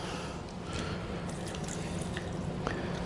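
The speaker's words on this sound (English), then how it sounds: "And I am going to add just a touch of water." A small splash of water goes into a lime juice and sea salt mixture for a grill recipe, with soft drips and wet trickling sounds close by, steady and quiet.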